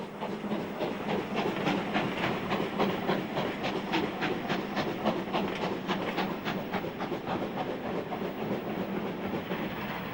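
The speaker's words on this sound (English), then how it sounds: "Now another 264 tank, 80143, sets off from Clapham Junction with empty stock for Waterloo." Steam tank locomotive 80143 pulls away from Clapham Junction with empty carriages for Waterloo. Its exhaust beats chuff in a steady rhythm over continuous hiss and rolling wagon clatter, close and loud throughout with no voices.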